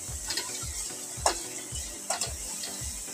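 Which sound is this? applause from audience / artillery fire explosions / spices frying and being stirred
spices frying and being stirred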